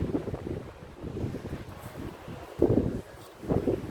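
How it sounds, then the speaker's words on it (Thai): Strong wind buffets the microphone at a beach, a rough continuous rumble rising in heavier gusts near the end, with faint sea noise underneath and no talking. "ลมแรงจ้า อ้วนๆอย่างนี้ยังจะพัดตัวปิวเลยจ้า"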